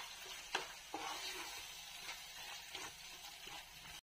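Brinjal being sautéed in oil in a pan while being stirred, giving a steady low sizzle with occasional soft scraping knocks from the spoon, with no voices.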